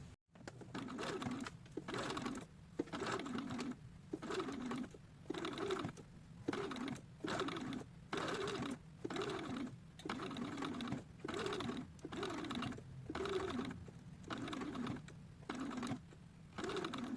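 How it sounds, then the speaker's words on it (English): A sewing machine runs a long stitch along the outer edge of a fabric ruffle for a doll dress, in short rhythmic bursts of rapid needle chatter with brief pauses between them, close up. "My first step here is going to be to sew a long stitch along this long edge, the outer edge, at 1/4 inch seam allowance"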